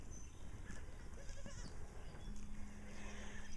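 Goats bleat in a corral at feeding time, several overlapping calls from nearby over a constant noisy outdoor background.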